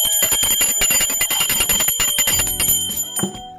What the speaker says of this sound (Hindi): घंटी जरूर बजाएं ताकि भगवान भोग ग्रहण करें।